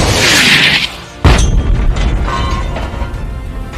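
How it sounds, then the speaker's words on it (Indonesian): An RPG rocket strikes a building in a war movie battle scene, with a hissing rush followed by a sudden loud booming blast and rumbling debris that fades out. "seorang pasukan Taliban menembakkan RPG tepat ke arah bangunan tempat mereka berlindung"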